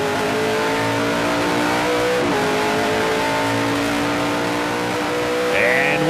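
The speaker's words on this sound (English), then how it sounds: "He's hard on the gas pedal trying to catch that 22." A stock car in the GP3R 100 road course race roars under hard acceleration, its engine note climbing steadily and shifting, loud and continuous, with other cars faintly audible behind it.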